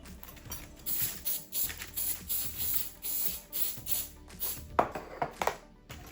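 Repeated quick hissing spritzes from a spray bottle, close by, a series of short bursts with small clicks and taps in between.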